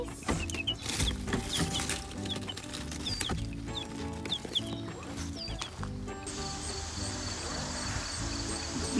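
Chickens, newly acquired chicks among them, cluck and peep in short, scattered calls close by the coop, over a steady low hum in the outdoor background.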